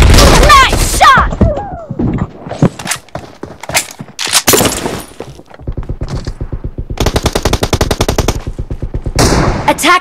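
PUBG Mobile team deathmatch gunfire crackles in loud bursts, mixing single sharp shots with rapid automatic rattles and a sustained fast volley near the end, separated by brief gaps.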